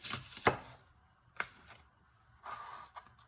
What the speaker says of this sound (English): I'm trying to chop onions at the same time